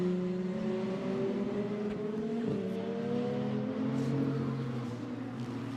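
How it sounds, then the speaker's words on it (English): KTM GT2 race cars accelerating out of a corner at the Barcelona circuit, a steady layered engine drone with a slight rise in pitch, loud and continuous throughout, with no voices. "The two KTMs accelerating then out of turn 13"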